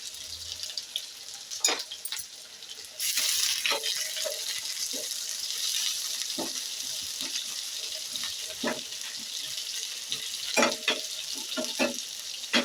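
Chopped onion and garlic frying in a tempering for drumstick dal sambar, a continuous close sizzle that swells after a few seconds, with scattered clicks of a spoon or pan and no talking.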